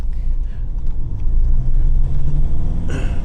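A Land Rover 110 with automatic transmission accelerating on the road, its engine rumbling low and steady close by inside the cab as it pulls away, with a brief rustle near the end.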